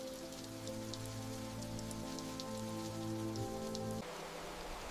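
Steady rain falls on surfaces in a Swiss Alpine village, a dense close patter with scattered individual drops, tone shifting slightly near the end.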